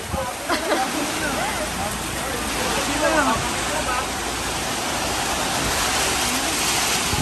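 Heavy storm rain pours down steadily and loudly as a dense, continuous roar, with a person's voice faintly present beneath it.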